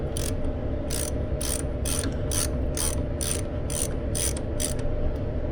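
Ratchet wrench snugging up a bolt on boat trailer brakes, a close, steady run of about a dozen evenly spaced clicks over a constant mechanical hum.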